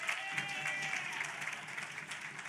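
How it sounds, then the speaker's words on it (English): Audience at a community outreach session claps steadily, a quiet, even patter of many hands heard at a distance. "Come on, clap it up."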